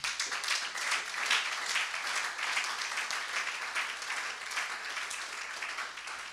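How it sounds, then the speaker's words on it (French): A church congregation applauds and cheers for the Lord, sustained fairly distant clapping that fills the room evenly and fades slightly toward the end. "Est-ce qu'on peut acclamer notre Seigneur?"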